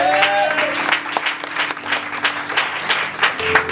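A church congregation applauds during a worship service, a dense, steady wash of clapping that swells and dips for the whole stretch, with faint tonal music underneath.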